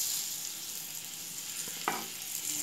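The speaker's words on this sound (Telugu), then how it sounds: "ఇలా గీట్లు పెట్టుకున్న గుడ్లు వేసి జరసేపు ఫ్రై చేసుకోవాలి." Scored boiled eggs fry in a pan of oil with turmeric and chili powder. A soft continuous sizzle runs throughout, with one brief scrape of stirring near the middle and no voices.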